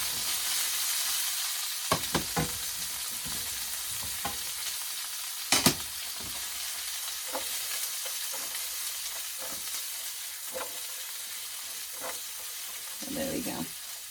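Salmon pan-searing in a frying pan, with a steady hiss of sizzling oil and scattered pops and clanks from stirring, close and even throughout.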